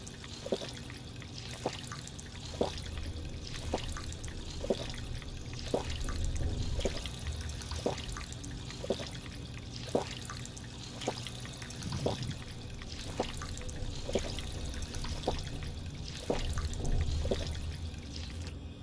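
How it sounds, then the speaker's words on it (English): Repeated drinking from water in Fallout 4 comes as a steady series of short watery gulps and drips spaced about a second apart, over a constant low trickling background. "Let's drink some water. Heal up."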